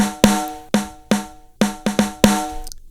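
A close-miked snare drum in a mix with no high-end EQ boost, heard alone and close, lands about seven hits in an uneven pattern, each a hard attack decaying into a ringing tone.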